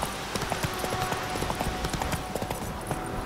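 Roach the horse's hooves in The Witcher 3 clopping over ground in a steady, fairly loud run of close footfalls, with the horse's gait rhythm clear and no talk.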